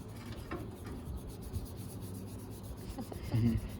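Sandpaper rubbing paint off a 2005-2009 Ford Mustang A/C vent, a soft, close, scratchy back-and-forth rasping that continues throughout with a slightly louder stroke near the end.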